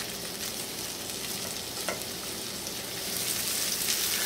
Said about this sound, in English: Now I'm browning them for 2 reasons. Partly to render out some of the fat, and of course partly for flavor.